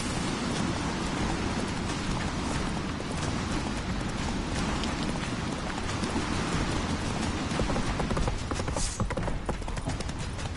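Rapid clip-clop of hooves as the horse Roach gallops in The Witcher 3, a steady driving rhythm under a dense wash of rain-like noise, close and continuous throughout.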